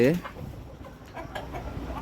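Six-month-old tiger breed hens give a brief cluck at the start, then soft scattered clucking and farmyard rustle continue at moderate distance.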